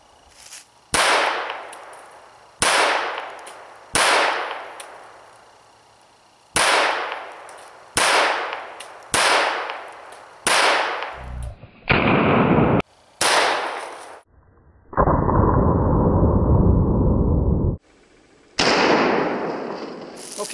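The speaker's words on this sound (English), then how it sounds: "So let's fire this thing up and take a look at how it's hitting." A Browning Buck Mark .22 pistol fitted with a Tactical Solutions barrel fires at an outdoor range target seven yards out, a series of sharp, separate cracks at irregular spacing, loud and close, with a few longer noisy bursts between shots.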